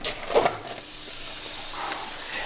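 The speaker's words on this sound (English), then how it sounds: "The sizzle." Precooked meat heating in a pan gives a steady, moderate hiss of sizzling with a brief louder crackle near the start, close by and without speech.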